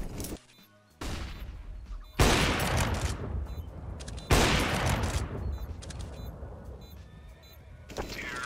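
Loud sniper rifle shots in a competitive shooter video game, two heavy blasts a couple of seconds apart, each trailing into a long rumbling decay, mixed with game ambience and no talk.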